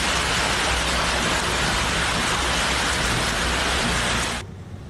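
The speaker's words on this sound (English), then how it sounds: "Much of the country was hit by storms." Heavy rain pours down in a dense, steady hiss during a storm in Saudi Arabia, loud and unbroken, cutting off abruptly just before the end.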